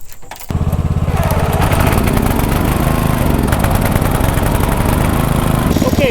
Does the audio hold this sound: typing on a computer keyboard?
no